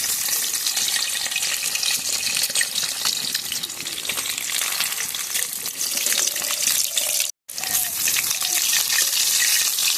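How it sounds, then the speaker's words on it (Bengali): An egg beaten with turmeric and salt fries in hot oil in a wok, giving a loud, steady, close sizzle that runs throughout with one brief break near the end. "ডিমটা লাল লাল করে ভাজা হয়ে গেছে"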